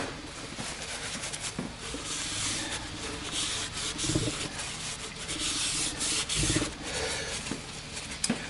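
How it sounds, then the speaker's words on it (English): Hub bearings spun by hand on a workbench during a hub seal job, a steady dry rubbing and grinding whir with brief irregular bumps, close and continuous with no talk. "Just going to run them around so we get some lubrication going around there."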